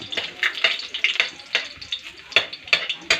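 Sardines fry loudly in a pan with a busy crackling sizzle and repeated bursts of spattering, close and continuous throughout.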